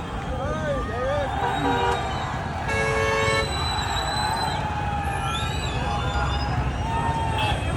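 Car horns toot and honk repeatedly in a jammed street during a crowd celebration of India's T20 World Cup 2024 win at Kranti Chowk, layered over steady traffic and crowd noise, with voices throughout.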